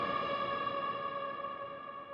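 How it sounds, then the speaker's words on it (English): A sustained synth tone with rich, steady harmonics pans from left to right while reverb is automated onto it, holding level and fading slightly toward the end with no voices. "this is automating and panning from left to right just to give it some spice and not be so stagnant"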